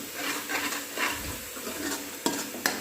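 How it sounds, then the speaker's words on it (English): Kofta curry with onions being stirred in a pan: scraping strokes over a steady sizzle of frying, with a couple of sharp utensil clinks against the pan near the end. "Stir it well until the raw smell fades away as well as it cook properly."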